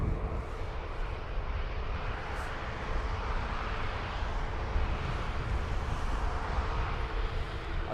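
An ATR turboprop airliner at Dublin Airport gives off a steady, loud broadband roar with a low rumble, unbroken for the whole stretch and with no voices over it.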